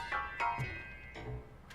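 A cat in a RoboCop video game meows several times in short, tonal cries spread across under two seconds, fairly quiet over a steady game background hum.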